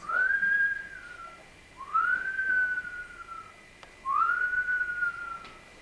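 Three rising, drawn-out whistles, each sliding up then tapering off, spaced a couple of seconds apart over a quiet background.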